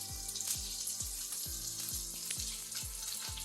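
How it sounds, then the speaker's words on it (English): Spam slices sizzle and crackle in a hot pan, a steady frying hiss with repeated soft clunks, close and continuous, no voices. "These are frying up very nicely."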